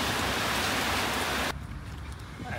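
Heavy rain pours down steadily in the Cameron Highlands, Malaysia, near a waiting vehicle. A loud, dense hiss fills the first half, then it eases to a softer, steady patter.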